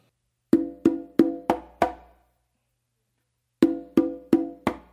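Conga tumbao in the Patato style played solo: three open tones struck in quick succession, then left- and right-hand close slaps, leaving a gap before the group of hits repeats, with sharp resonant strikes that are close and loud.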